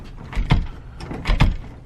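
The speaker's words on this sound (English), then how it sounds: "Gotta lock the door, gotta lock the door." A door swung shut and locked at dusk, two solid thumps with a latch click about a second apart, close and fairly loud with no talking.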